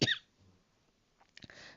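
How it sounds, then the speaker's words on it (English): Single close cough bursts out at the start, followed by near silence and faint rustling and small clicks toward the end, indoors during a craft and puzzle session. "Sorry if my coughing annoys you."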